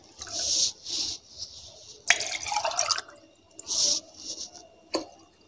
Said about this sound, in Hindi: बर्तन में 2 गिलास पानी ले लेंगे।